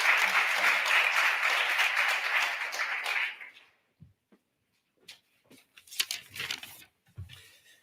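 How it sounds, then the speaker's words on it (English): Dense audience applause at a 2022 Kid Governor inauguration ceremony fills the first few seconds, then fades into near silence broken by a few scattered claps and small handling noises. "So let's please give him a warm round of applause as we bring him to the podium."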